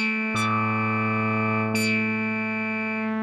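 A synthesizer's digital oscillator sounds a steady, bright harmonic tone in standard tonality. Two notes strike in turn and each rings on with a long, even sustain.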